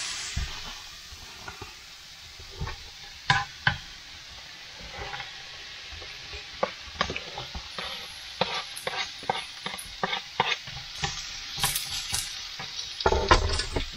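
Onions added to browning potatoes frying in a pan inside a camper van, a soft steady sizzle broken by repeated stirring scrapes and spatula clicks.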